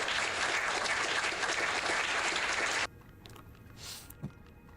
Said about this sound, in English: That's getting us up an applause right there.